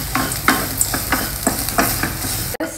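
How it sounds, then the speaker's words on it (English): Cashew nuts stirred while frying in a pan for a festival prasadam, with a steady low sizzle and repeated scraping strokes of a spoon against the pan at a regular rhythm, close up and alone. "Just stir it till it slightly changes color to a reddish color."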